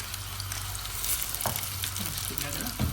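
Chicken breast sizzles steadily in a hot pan while being stir-fried and flipped, with a few scraping clacks of a utensil turning the pieces over the continuous frying hiss.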